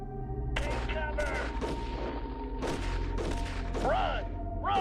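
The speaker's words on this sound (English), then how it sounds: "We're definitely taking gunfire." Gunfire in the strategy war game Shadow Empire, rapid bursts and cracks layered over a low rumble, with shouted voice lines and other game sounds mixed in.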